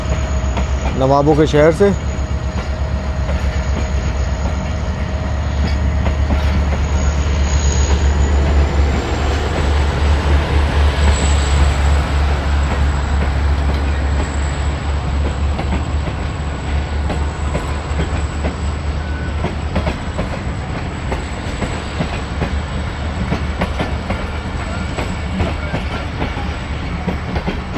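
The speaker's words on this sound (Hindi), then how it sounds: "ट्रेन जो है वो डिपार्ट कर रही है" A Tezgam passenger train pulling out of Nawabshah: a steady low rumble of the moving train with rhythmic wheel clatter and a brief horn early on, loud and continuous, with someone talking over it.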